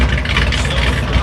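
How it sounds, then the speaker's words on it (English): A 1955 Chevy's engine rumbles close by as the car drives past at a car show, a brief, steady low growl. "Comes another 55 Chevy"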